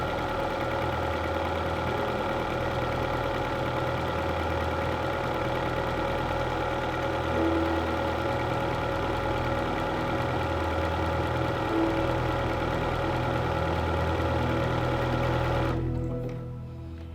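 A computerized Bernina sewing machine stitches a buttonhole automatically, giving a steady, close mechanical whir with a fast, even stitching pulse that runs unbroken for most of the clip, then cuts off near the end.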